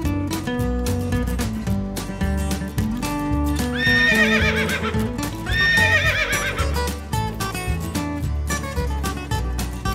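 A horse whinnies loudly twice in quick succession, high shrill neighs rising over a dense, busy background of music-like tones and noise.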